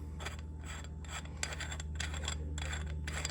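Handle cap of a Gordon survival knife is twisted off, a quiet close series of rhythmic gritty rasps from the threads turning, repeated in short strokes over a low steady hum.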